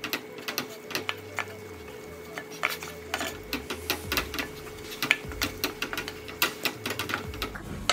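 A spoon works flour into a boiling butter mixture in a pot for cream puff dough, giving soft scraping and clinking strokes in an irregular rhythm, close and fairly quiet.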